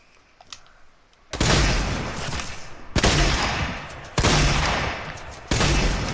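Loud bursts of gunfire from the Fortnite video game, four heavy rapid volleys each starting abruptly after a quiet moment, with booming low end and no talking.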